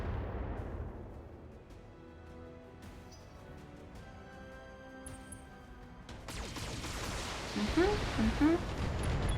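An enemy mech blowing apart in the BattleTech game, a rumbling burst with crackling debris that swells louder toward the end, heard over steady game ambience and mixed with a voice.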